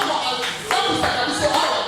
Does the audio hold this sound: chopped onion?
no